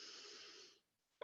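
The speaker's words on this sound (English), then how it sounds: "you just take a deep breath in" A person takes a slow, deep breath in during a guided grounding exercise. The inhale is soft and close, lasts under a second, and is followed by silence.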